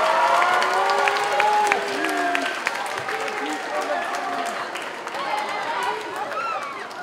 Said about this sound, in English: Take a nice big bow, big round of applause for this year's contestants